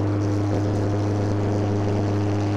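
ANA Bombardier turboprop airplane with a variable-pitch propeller, its engine running as a loud, steady droning hum with a deep throbbing propeller tone, unbroken throughout.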